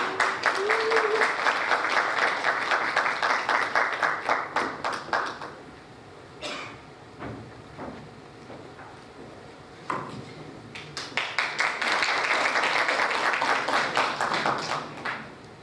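Audience applause at a Korean community organization's launch ceremony in Atlanta welcomes the next speaker, a loud sustained wash that fades in the middle, where a few scattered claps and taps remain, then swells back to full strength.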